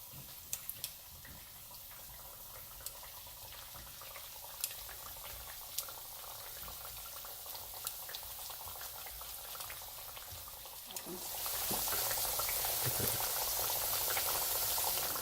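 Plantain slices frying in hot oil in a pan, turned with tongs: a steady bubbling sizzle with scattered small pops and clicks, growing louder and fuller near the end.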